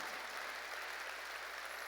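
A church congregation claps during a Korean sermon, a steady, dense wash of applause that stays faint and distant throughout the short stretch, with no voices over it.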